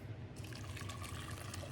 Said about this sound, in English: Adding that boiling hot liquid to it all of a sudden.